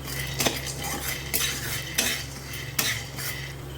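Corn kernels stirred with ghee in a pan make repeated scraping clinks about once a second over a steady low hum, with no voices.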